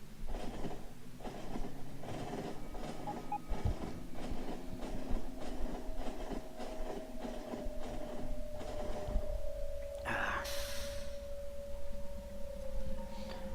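An iron-ore freight train in the Factorio video game rolls in with a steady rumble and clatter and a held tone, and a brief brighter burst comes near the end; no one speaks.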